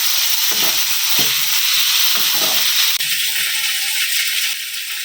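Large pieces of potato fry in hot oil in a home kitchen pan, a steady bright sizzle running throughout with occasional scrapes and stirring knocks, fairly loud and close with no voices.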